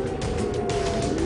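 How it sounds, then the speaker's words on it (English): A warning siren wails in Haifa, a sustained tone holding steady over a rumbling street backdrop, loud and continuous for the whole moment. "we have a siren now"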